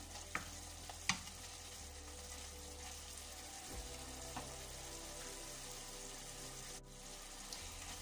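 Beef and white cabbage mix stirred as it fries in a pan, a steady soft sizzle with a few sharp utensil scrapes and clicks, close and alone with no voices.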